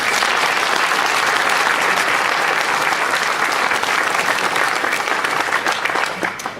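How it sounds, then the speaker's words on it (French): A seated audience at a New Year's address gives sustained, dense applause for social service workers, loud and steady, fading slightly at the end. "Je voudrais qu'on les applaudisse."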